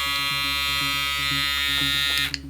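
Braun Series 3 ProSkin electric shaver running near the mic with a steady close buzzing hum that holds for about two seconds and then cuts off.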